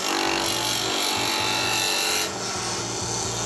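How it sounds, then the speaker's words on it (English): Wood being roughed down on a lathe with a gouge in a furniture workshop, a loud continuous rasping scrape with a rapid rhythmic chatter from the spinning blank, easing slightly toward the end. "So I'm going to start up the lathe. And then this is a gouge."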